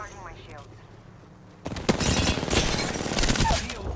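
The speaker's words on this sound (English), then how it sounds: "I am taking fire" Bursts of video game gunfire from a competitive shooter erupt suddenly after a quiet stretch, then continue as dense, loud overlapping shots with voices talking over them.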